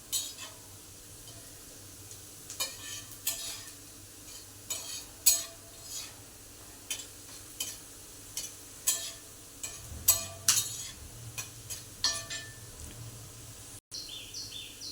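Onions and garlic frying in a pan, stirred with a utensil, giving sparse, irregular scrapes and clinks over a faint background sizzle, close and fairly quiet, with no talking.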